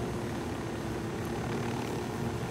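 A video game helicopter in Ghost Recon Wildlands, its rotor and engine droning steadily at moderate distance, a continuous mechanical rumble without pauses.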